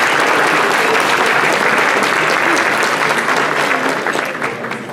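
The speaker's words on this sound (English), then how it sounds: "give a round of applause for our harpist" Meeting attendees applaud the harpist, Ms. Laura Griffin Casey, with loud, dense, sustained clapping from a large room that begins to fade toward the end.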